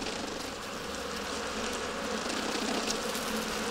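Inside a hollow tree, a colony of some 30,000 honey bees produces a broad, even droning hum that holds steady and moderately loud throughout, with no voices over it.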